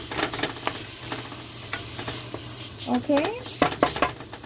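King fish stew cooking in a pot on medium heat, with a soft simmer and sizzle under scattered utensil clinks and stirring scrapes, and a brief spoken word.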